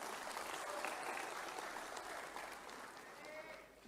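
Audience applause for Erick Thohir at an Indonesian political gathering, a dense wash of crowd clapping that is loudest early and slowly thins toward the end.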